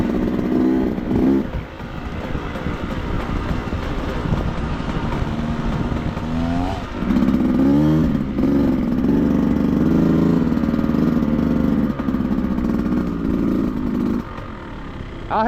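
A 2024 Beta Xtrainer dirt bike runs steadily close by on a trail ride, its engine droning and revving with brief dips and surges in throttle.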